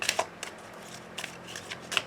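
Oracle cards shuffled in a few soft, scattered bursts of papery riffling, faint and close, with gaps between them and no voices.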